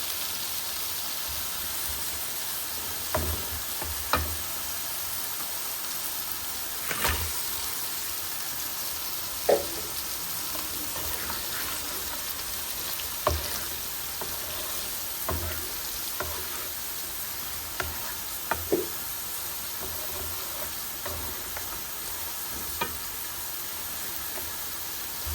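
Tengra fish frying in a thick spice masala, a steady close sizzle and hiss with a few sharp crackles and spatters popping through at intervals.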